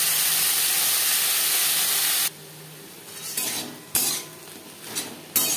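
Prawns fry lightly in a pan with a loud, steady sizzle for about two seconds. The hiss then drops to a quieter simmer, broken by a few sharp clinks of a utensil against the pan.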